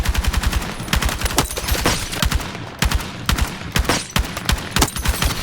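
L85A3 rifle firing in Battlefield 6 REDSEC battle royale, rapid loud automatic bursts with short pauses between them, close and dominant with no talk.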